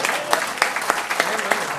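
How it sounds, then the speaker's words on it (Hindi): Audience applause at a Hindi-Urdu mushaira poetry recital in Delhi, a close burst of scattered clapping that stays dense and even, without voices over it. "देखिए तालियाँ बिखरी बिखरी आती हैं"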